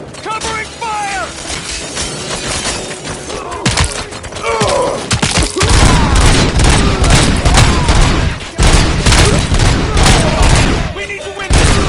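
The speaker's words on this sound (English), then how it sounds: "Covering fire!" Sustained covering gunfire in the Robocop video game, dense bursts of shots and mechanical clatter building over a busy battle soundscape, with voices calling out intermittently.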